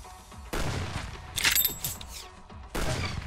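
Gunshots from a weapon in the Roblox Arsenal video game, with a few loud, separate bursts of fire and a bright, shattering impact in between, over quieter game ambience.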